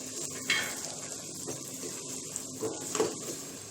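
Ginger garlic paste frying with spices in a pan for Kashmiri chicken masala, a continuous close sizzle with a few sharper crackles and stirring scrapes, moderately quiet and without talk.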